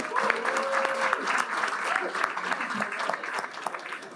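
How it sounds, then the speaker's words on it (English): An audience at an awards ceremony claps steadily for several seconds, dense and even at moderate loudness, with a voice speaking briefly over it early on. "So give them a round of applause if you would"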